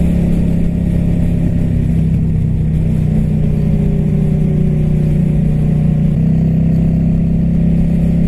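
A Kawasaki Vulcan 750 motorcycle accelerates on a Wisconsin road to pass a slower car, its loud, close engine drone holding steady and then climbing in pitch as the throttle opens, with no talking.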